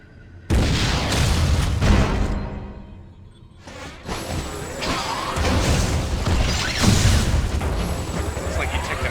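Missile blasts in Metroid Other M, with a sharp boom at the start, then a second burst of crashing, whooshing impacts and shattering debris that stays loud and dense through the rest.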